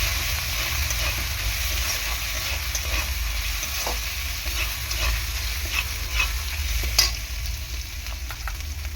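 A spice paste with chili and turmeric powder fries and sizzles steadily in a pan, with a continuous hiss, a low rumble underneath and occasional stirring scrapes, and no voices.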